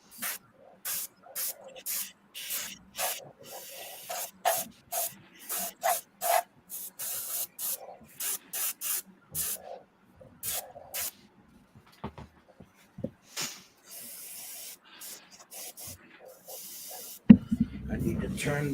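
An airbrush driven by an air compressor lays down lighter green paint in a long run of short hissing bursts, close and distinct, followed by one longer steady spray.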